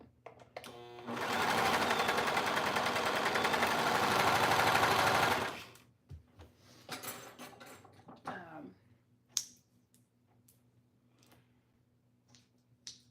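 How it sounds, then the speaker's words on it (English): A basic Brother serger overlock machine runs in one loud, steady burst of rapid stitching for about four seconds, then stops, followed by scattered clicks and handling taps. "it's just the basic serger, but for me it works great"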